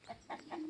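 Gournay hens cluck softly in a farm yard, a few short rhythmic clucks spaced about a quarter second apart, faint and somewhat distant with no voices.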